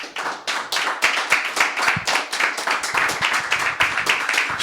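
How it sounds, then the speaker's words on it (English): A congregation at a Shabbat service gives a round of applause: dense, close hand clapping in a steady pattering rhythm for several seconds, with a few sharper claps standing out. "Let's give the Most High a round of applause."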